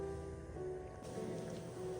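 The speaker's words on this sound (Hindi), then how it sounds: "पानी को बॉयल आ चुका है" A pot of water with small onion and crushed red chilli is at a boil, giving a steady low bubbling and rumbling hiss, faint and continuous with no talking.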